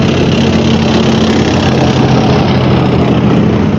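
Russian tank engines rumble in a column of armoured vehicles advancing toward a mined area, a loud, steady, unbroken low drone with no voices.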